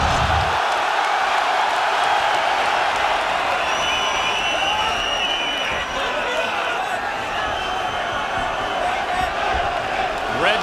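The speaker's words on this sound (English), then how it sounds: "Carlos Condit looking to silence the crowd" An arena crowd roars continuously before an MMA fight between Carlos Condit and Dan Hardy, a dense, loud wall of cheering and shouting with an announcer's voice over it.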